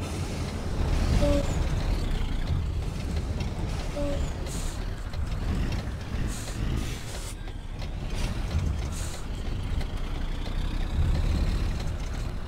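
Ford Cargo 24-29 truck in a driving video game rolling over a tall speed bump on a mountain road, a steady engine drone with a couple of faint knocks from the suspension, no talk.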